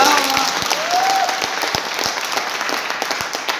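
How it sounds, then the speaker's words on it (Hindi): A crowd at a Modicare gathering bursts into loud, sustained clapping that holds steady for several seconds, with a voice briefly heard over the opening. "एक बार जोरदार ताली तो बजाइए"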